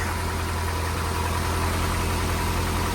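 A freshly cleaned car engine, just started, idles quietly and evenly for a few seconds, a steady low hum with a faint rhythmic knock and nothing else over it.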